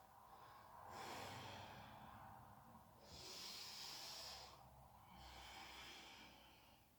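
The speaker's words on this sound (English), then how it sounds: "slow the breathing down" Slow, deep breaths during a calm yoga flow, three long soft swells of air spaced a few seconds apart, faint and close with no talking over them.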